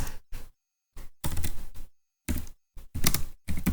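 Keys struck on a computer keyboard as a command is typed at a network switch console, coming in short bursts of close, crisp clicks separated by brief pauses.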